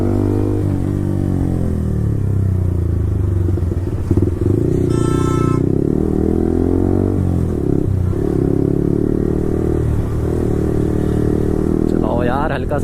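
Yamaha R15 V4 motorcycle fitted with an Akrapovic exhaust, revving loudly and burbling through downshifts, its engine note steady and close throughout with brief sharp blips, while people talk over it.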